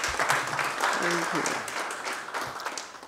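An audience at an AFCON 2027 committee inauguration applauds, a dense wash of clapping under a voice briefly thanking them.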